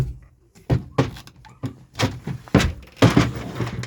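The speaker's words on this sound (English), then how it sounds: "Cupboard," A cupboard door inside a Conway Cruiser folding camper is worked, giving a run of close, sharp knocks and thunks in an uneven rhythm, with no one talking.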